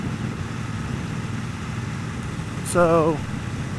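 A Triumph Bobber motorcycle engine lugging at low RPM in fifth gear around 50 mph, a steady low rumble throughout with a brief spoken word near the end.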